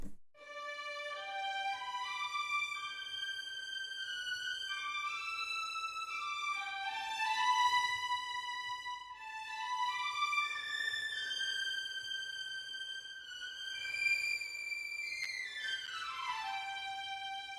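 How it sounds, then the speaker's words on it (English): A second violins string section plays a sustained, layered passage with long held notes that shift in pitch, ending on a descending slide, with no voices. "And then violins 2 sounds like this."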